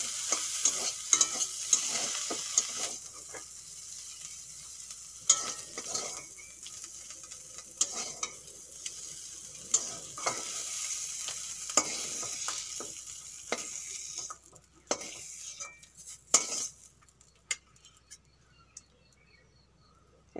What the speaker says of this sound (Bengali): চিংড়ি মাছের খোসা আর মাথাও ভাজা হয়ে গেছে